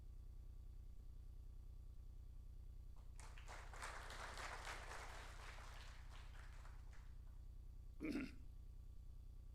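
Brief applause from an audience at a hotel gathering rises for about three seconds in the middle, faint and distant over a low steady hum, followed by a short isolated thump.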